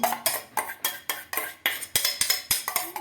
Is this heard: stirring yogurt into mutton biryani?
yes